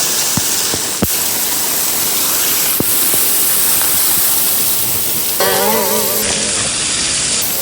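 Irachilpara waterfall at Kanthalloor roars as a loud, steady broadband rush of falling water close by, with brief sharp knocks and a faint voice surfacing near the end.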